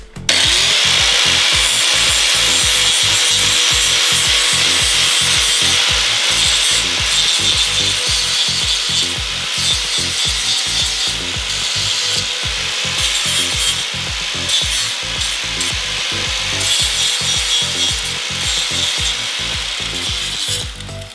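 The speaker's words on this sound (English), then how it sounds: "After you've cut it off, it's not a bad idea to chamfer this on an angle." A file or rasp scrapes steadily across the freshly cut edge of a plastic snowmobile slider (hyfax), chamfering it at an angle in loud, rapid, regular back-and-forth strokes that continue without pause and with no talking.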